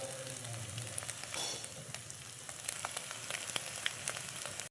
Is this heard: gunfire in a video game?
no